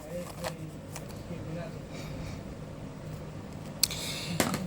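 Tarot cards being shuffled by hand in a quiet room, giving a soft, continuous riffling rustle with two sharper snaps near the end. A voice is faintly present underneath.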